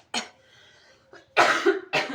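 A few close coughs, one short burst followed by a heavier, longer cough and another, with quiet pauses between.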